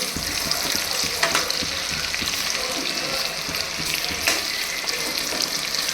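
Onions with salt frying in a pan for mushroom biryani, a steady close hissing sizzle with occasional stirring scrapes, continuous and alone throughout.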